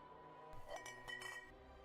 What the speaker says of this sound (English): You can hear the clinking.